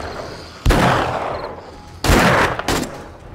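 Gunfire during a zombie horde attack in the survival video game 7 Days to Die: two loud, dense bursts of rapid shots, each starting abruptly and trailing off, with a shorter third burst at the end.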